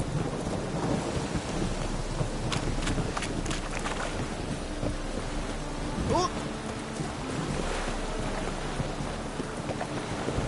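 Rain and rolling thunder in the Witcher 3 video game, a steady broad wash of rainfall with low rumbles throughout, and faint game voices now and then.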